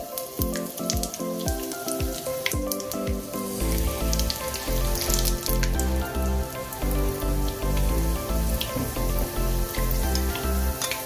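Ingredients for an ivy gourd chutney tempering fry briskly in hot oil, giving a loud, dense crackling sizzle with rapid popping that thickens midway and continues steadily, with no voices.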